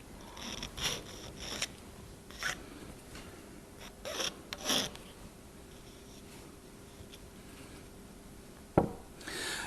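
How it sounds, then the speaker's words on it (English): A hand file rasps against the copper outer conductor of an RF connector in a few short, scattered strokes, with quiet gaps between them and a sharp click near the end. "We do this using a file."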